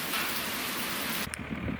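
Steady rain pours outside an open shop during a cool spell, a dense even hiss that briefly breaks near the end into a few closer splashes and knocks.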